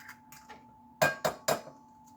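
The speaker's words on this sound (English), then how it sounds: "So I'm going to crack the eggs in this bowl here." Three quick, sharp taps of eggs being cracked against a bowl while making breakfast burritos, evenly spaced and close by, after a few softer knocks.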